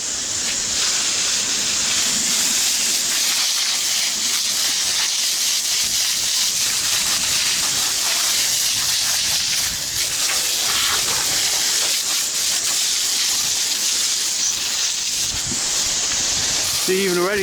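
A pressure washer blasting muck off a Massey tractor, a loud continuous hiss of high-pressure spray with shifting splatter as the jet moves across the bodywork, steady throughout with no talk.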